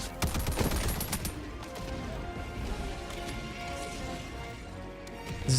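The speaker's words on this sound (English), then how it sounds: "This is the medium pen SMG. Bam, bam, bam, bam." Medium-penetration SMG firing in Helldivers 2, heard as rapid bursts of gunfire near the start with crashing impacts and dense battle noise continuing throughout.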